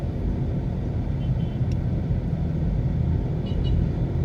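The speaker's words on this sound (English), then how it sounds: "this is a drive around the Maypen town center" A car drives through the town center of May Pen, Jamaica, heard from inside as a steady low engine and road rumble with faint traffic, no talk.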